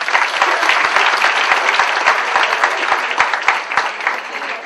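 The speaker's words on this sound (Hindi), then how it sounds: "मैं चाहती हूँ कि तालियां हो जाए।" An event audience breaks into loud, dense applause, many hands clapping steadily and evenly throughout, close and full with no voices standing out.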